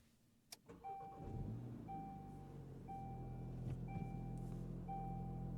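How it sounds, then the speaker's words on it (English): A 2024 VW Golf GTI 380 with a manual gearbox and a turbocharged four-cylinder engine cranks briefly and fires up, settling into a steady, even idle with a faint repeating chime in the cabin. "hear that turbo 4-cylinder come to life"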